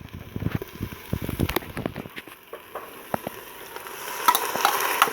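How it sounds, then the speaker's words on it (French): Risotto rice and peeled tomatoes tumble into a Cookeo pot, with a run of rattling, pattering pours and scraping stirs that ease off, then a lighter wet clatter building toward the end. "on ajoute le riz à risotto, donc les 400 g. On ajoute les tomates pelées."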